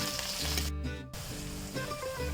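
Onion, green chilies and dried red chilies sizzle steadily in a hot pan, a close, continuous frying hiss with faint stirring and a short gap partway through.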